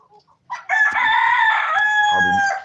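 A rooster crows one long, loud, close call among layer hens in a coop, preceded by a few soft clucks.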